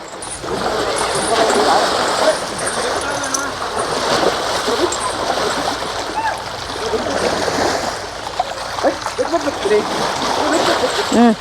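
Water splashes and sloshes repeatedly over an elephant's body as it is bathed, with running water and voices talking throughout.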